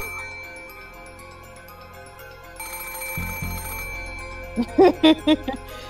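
A telephone rings in the Umineko no Naku Koro ni video game, a tinny electronic bell trilling in short repeated bursts over a quiet background music drone.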